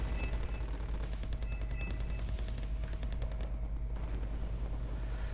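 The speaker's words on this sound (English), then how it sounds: "they will get shot up by the machine guns" Dense rapid-fire machine guns rattle through a Wargame: Red Dragon battle, with continuous overlapping bursts and distant artillery rumbling underneath at a constant, loud level.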